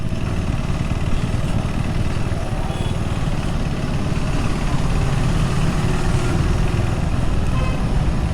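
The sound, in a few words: KTM Adventure 390 399cc motorcycle engine idling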